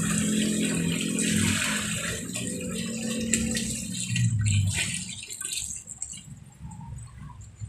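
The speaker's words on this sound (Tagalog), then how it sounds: "Sumad na po natin yung tubig." Water pours steadily into a pot of lugaw (rice porridge), a close rushing splash that tapers off into lighter trickles and drips near the end.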